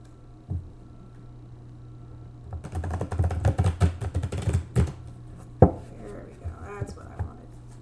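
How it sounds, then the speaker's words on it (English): Tarot cards are shuffled by hand close up, a quick run of soft riffling taps and clicks after a quiet start, ending in a few scattered slaps and shuffles over a low room hum. "I will go ahead and shuffle my cards on camera so you guys can see"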